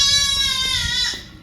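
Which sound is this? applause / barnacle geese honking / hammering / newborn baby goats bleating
newborn baby goats bleating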